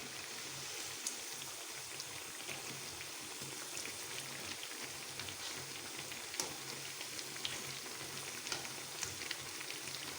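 Bread pakoras deep-frying in oil, a faint continuous bubbling crackle with scattered tiny pops, steady and even throughout, quiet and without voices.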